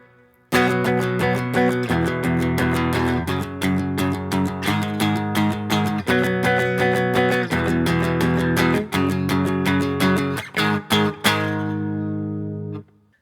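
Distorted electric guitar chugs through a steady power chord progression, loud and close, with repeated palm-muted strums and a ringing final chord.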